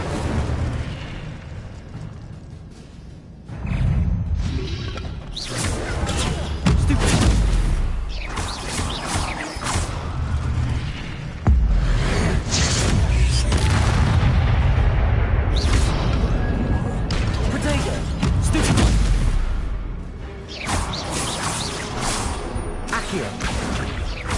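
Incendio fire spell blasts in the Hogwarts Legacy video game, loud repeated bursting booms and crackling fire crashes over a sustained roar across the whole stretch.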